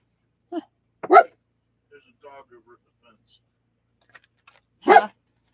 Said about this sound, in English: There's another dog over there by the fence.